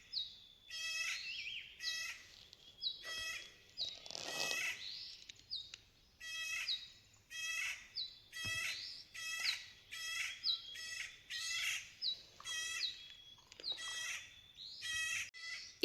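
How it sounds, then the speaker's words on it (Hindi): A bird calls repeatedly from somewhere unseen in a hillside garden in Himachal, sharp high chirps and squawks coming in steady bursts throughout, fairly close and clear with no talking. "इतनी आवाज़ें कर रहा है ना ये पंछी, बट दिखाई नहीं दे रहा, मानो किसी को बुला रहा हो।"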